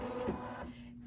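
An embroidery machine stitches a basting box in white thread, a steady close mechanical whir with a constant hum running the full length, no voices over it.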